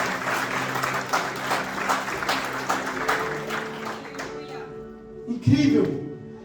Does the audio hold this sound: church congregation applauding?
yes